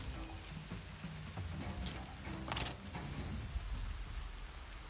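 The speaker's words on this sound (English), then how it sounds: "More rain. My boots will get damp." Steady rainfall in Horizon Zero Dawn, a continuous hiss of drops on surfaces with a few brief louder splashes, quiet and unbroken, with no voices.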